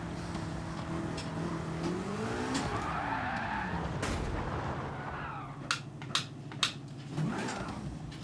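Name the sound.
rear wheels spinning and skidding, 1100 hp car in Gran Turismo 7 video game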